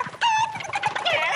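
Chicken clucks and squawks in the Fortnite video game come in bursts, loud and close, with a few short bright calls.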